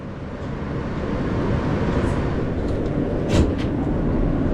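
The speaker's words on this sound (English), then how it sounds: "This is the Church Avenue bound G train." A New York City subway G train rolls along with a steady, loud rumble of wheels and motors, plus a brief squeal partway through, with no one talking.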